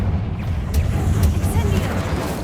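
A Confringo spell blast in Hogwarts Legacy, a dense rumbling burst with low booming energy and crackling hiss over a steady game ambience, continuous and fairly loud for a couple of seconds.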